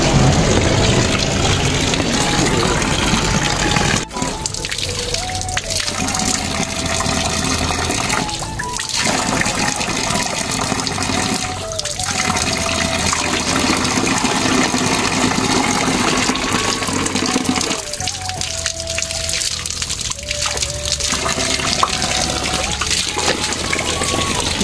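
Water gushes steadily from a public tap as someone washes their face at a village spout, a constant close splashing rush running the whole time with brief shifts in the flow.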